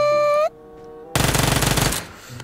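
A rapid automatic burst of roughly a dozen loud, evenly spaced shots from PUBG Mobile, with a brief electronic game tone and a quiet pause just before it.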